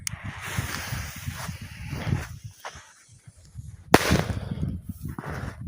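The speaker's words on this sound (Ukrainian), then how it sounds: "перша в нас петарда палиця від фірми Magic Time PP1" Magic Time PP1 stick firecracker going off outdoors: a sharp loud bang with a broadband burst partway through, set among rustling and wind-like noise, with no talk.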